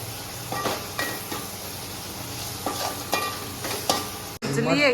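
Food stir-fried in a pan for dal khichdi, sizzling steadily with several scraping stirs, ending in a brief burst of louder, wavering sound after a short cut.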